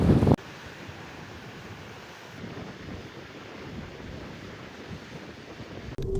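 Ocean surf breaks on the coast at Kunigami in northern Okinawa, a steady loud wash of waves mixed with wind buffeting the microphone, with no talk.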